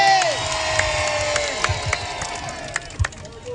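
A crowd at a presidential campaign event in Guinea cheers and whoops loudly, with scattered claps and shouts rising over a steady roar of voices.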